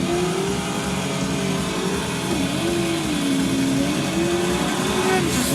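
A race car engine in a PS3 racing game holds a high, whining rev that rises and dips through gear changes over constant engine roar, steady and fairly loud with no speech.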